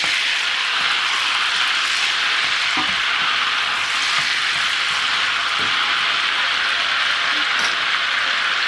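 Kerrygold butter melting in a hot pan for shrimp scampi, giving a loud, continuous, close-up sizzle and spatter with no pauses and no talking over it.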